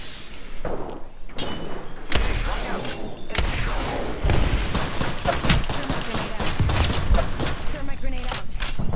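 R-301 rifle gunfire in Apex Legends rattles off in repeated bursts of close, loud shots mixed with thuds and impacts, continuing steadily.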